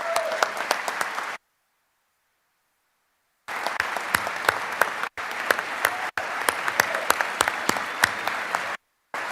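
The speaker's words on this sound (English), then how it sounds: "I want to applaud you for that" Applause from lawmakers in the Georgia State Capitol chamber during the governor's State of the State address, dense sustained clapping in bursts broken by abrupt silent gaps.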